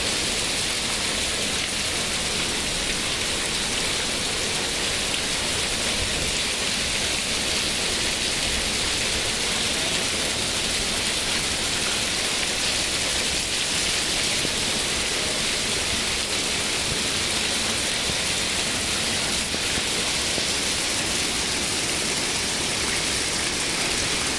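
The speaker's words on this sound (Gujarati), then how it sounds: "પાંચથી છ મિનિટમાં જોરદાર વરસાદ" Heavy rain pours down continuously in Talaja, a dense, loud, even hiss with no pauses.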